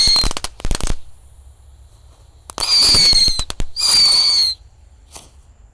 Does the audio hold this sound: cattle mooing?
no